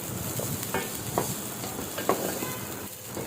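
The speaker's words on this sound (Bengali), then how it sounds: "আমার যতক্ষণ পর্যন্ত মনের মতো ভাজা না হয় চাল, ততক্ষণ পর্যন্ত আমি ভাজতেই থাকি।" Rice fries and is stirred in a pot while making biryani, a steady close sizzle broken by several scraping stirs of a spoon against the pot, with no voices.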